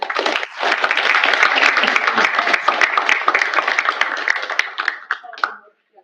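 Audience at a college business recognition ceremony applauding an honoree, a crowd of clapping hands loud and steady for about five seconds before thinning and stopping abruptly.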